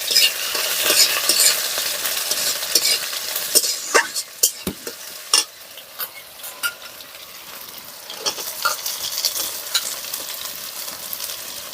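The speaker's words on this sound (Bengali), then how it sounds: "লাল হয়ে উপরে উঠে গেছে, এবারে আমি পেঁয়াজগুলো দিয়ে দিচ্ছি।" Onions fry in oil over caramelized sugar in a pan for a country chicken curry, a strong hiss fading slightly as a utensil scrapes and taps the pan in repeated clicks; no voices.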